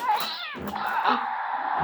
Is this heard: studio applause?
no